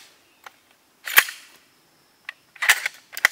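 A rifle fires outdoors, a sharp, loud crack with a short ringing decay, followed by a few fainter clicks and another brief burst of sharp noise near the end.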